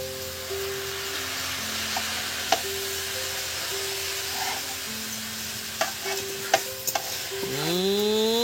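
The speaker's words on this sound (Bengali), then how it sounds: "এবার এর মধ্যে আমি এই দেখুন চালটাও দিয়ে দিচ্ছি।" Rice is tipped into fried lentils in a pan for cauliflower khichuri and stirred with a spatula, giving steady sizzling and frying with scattered scraping clicks and taps, and a rising whistle-like tone near the end.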